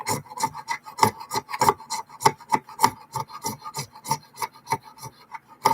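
A knife blade scrapes a magnesium block fire starter in a steady series of short rasping strokes, close and fairly loud, with no talking.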